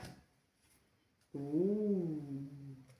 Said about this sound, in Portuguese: Vocês estão ouvindo ela miar?